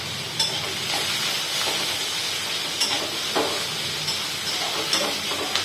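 Garlic cloves sauté with onions in a pan, a steady close sizzle broken by occasional light stirring scrapes and taps of a utensil.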